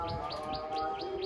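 Giribaz pigeon squabs, a top-quality Andhra breed, give short repeated chirping calls in a steady series, fairly close, over a low background hum.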